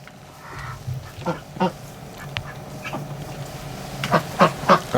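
Muscovy ducks sheltering inside a barn on a bitterly cold, windy day give short, breathy quacks and hisses, scattered at first and then a louder cluster near the end, with no voices.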